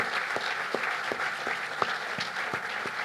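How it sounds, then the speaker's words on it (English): Applause for city council members at a cancer center ribbon-cutting ceremony, sparse and fairly distant, with individual claps spaced in a loose rhythm over a room's murmur. "Give them a round of applause."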